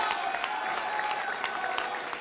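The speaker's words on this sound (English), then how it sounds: "You should applaud that." Audience applause at an election night speech by Gov. Andrew Cuomo, a steady continuous clatter of many hands clapping throughout, dense and sustained with a slight crowd murmur beneath.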